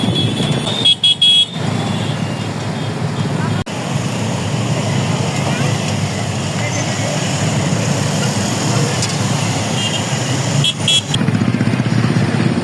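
A motorcycle rally ends outside a Ram temple: steady engine rumble from many bikes, with horn toots and faint voices in the busy roadside mix.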